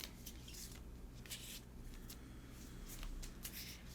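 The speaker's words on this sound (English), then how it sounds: "Okay, we're just shuffling a deck." A deck of playing cards being shuffled close by, repeated soft riffling bursts over a quiet low hum, with no talking.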